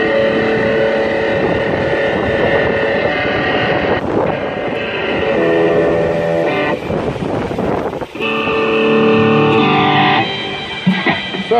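Overdriven T-style electric guitar fitted with Bill Lawrence pickups, played with sustained chords and held notes that shift between phrases, loud and close with no talking.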